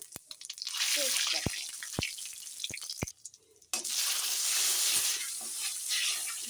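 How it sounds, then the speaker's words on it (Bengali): Dried red chilli and cumin tempering in hot oil gives a loud, hissing sizzle peppered with sharp crackles and pops, dropping briefly to a near hush midway before the sizzle surges back. "এখন শুকনো লঙ্কা আর জিরে ফোড়নে দিয়ে দেবো"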